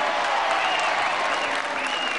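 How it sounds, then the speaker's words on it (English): A wrestling audience in a hall applauds steadily after an equalising fall in a bout involving Mick McManus, an even, sustained roar of clapping and crowd noise. "that's the applause that one can expect for the lighter man to come up with an equalizer against Mick McManus"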